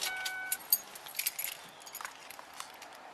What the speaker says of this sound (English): Turn off the car and pass me the keys, please.